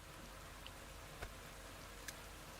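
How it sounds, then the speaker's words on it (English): Steady rain falling in the post-apocalyptic colony builder game Endzone 2, a soft continuous hiss with a few faint drop ticks, quiet and even throughout. "The first drops have already fallen. It looks like it could rain for quite some time."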